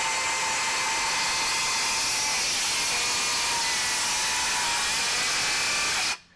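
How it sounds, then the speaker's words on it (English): A Milwaukee M18 Fuel 7 1/4-inch cordless circular saw runs through a plunge cut with a loud, steady high whine and hiss for about six seconds, then cuts off abruptly. There is no speech. "let's do a plunge cut here and see what it does"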